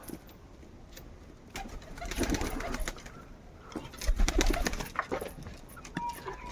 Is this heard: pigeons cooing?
yes